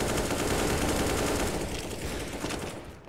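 Rapid AK rifle fire in Counter-Strike on the Inferno map, a steady dense stream of shots rattling for about three seconds before tapering off, heard fairly distantly with no voices over it.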